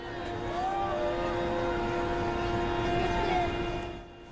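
Inside a helicopter flying a rescue mission in Iraq, a loud, steady engine and rotor drone fills the cabin, with a constant mechanical whine and a brief tonal rise before the noise fades slightly at the end.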